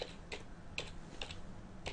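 Typing on a computer keyboard, a few quiet, close key clicks spaced irregularly over a couple of seconds.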